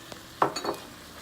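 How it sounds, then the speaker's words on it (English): Meat browning in a pan with crushed red peppers for spicy spaghetti. A faint sizzle sits under a couple of quick, close scraping stirs of a utensil against the pan, with no talking. "So as you can see, the meat is now browning"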